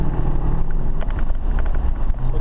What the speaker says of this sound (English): Get the vehicle up to speed.